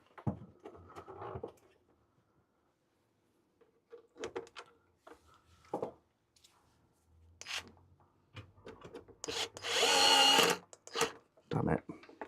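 A small electric screwdriver whirs in one loud burst of about a second while driving a screw into electronics during a repair, with close talk before and after it.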